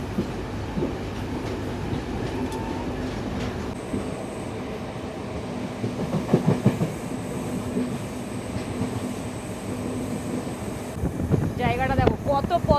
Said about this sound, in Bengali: আর আমাদের ট্রেনটা ঢুকে গেল কলম্বোর দিক